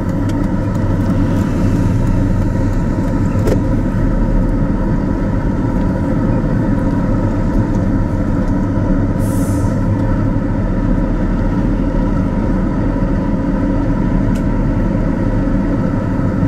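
Car engine droning steadily while driving slowly and hunting for a parking spot, a loud, continuous low rumble with constant road and cabin noise and an occasional faint click.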